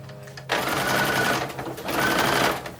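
A sewing machine stitches fabric for a 1940s-inspired bathing suit, starting abruptly into a fast, steady mechanical whir that dips briefly midway before running on, close and clear.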